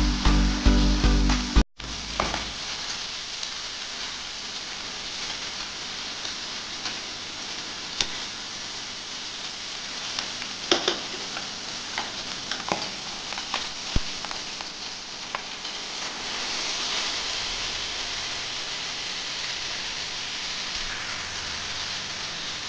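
Turmeric-rubbed fish head sizzles in hot oil for a Bengali pui shak charchari: a steady, soft frying hiss with scattered pops and crackles, close and continuous, after a brief clatter at the start.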